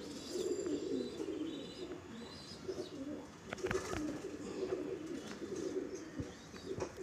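Madrasi pigeons in a loft, with low soft cooing rumbling repeatedly beneath a constant background hiss and scattered faint chirps and clicks nearby.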